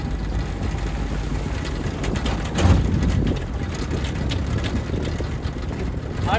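A 1942 Willys MB Jeep in low range with unlocked hubs rolls through puddles, a steady rumbling engine and broad wash of water and wind noise running throughout, with a brief louder splash near the middle.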